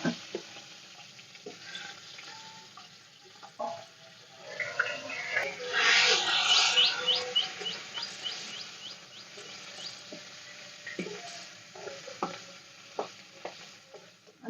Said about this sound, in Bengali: আমি এই কড়াইতেই সর্ষের তেল দিয়ে মাথাগুলো ভেজে নেব।